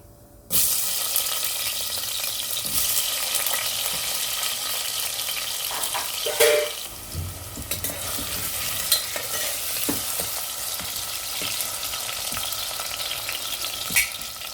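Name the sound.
cumin and potatoes frying in oil in a pan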